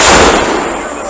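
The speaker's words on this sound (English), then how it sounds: "Gun number 1. Fire!" A Civil War cannon of the 1st Ohio Battery A firing a blank round outdoors, a single loud, close boom that decays quickly with a rumbling tail.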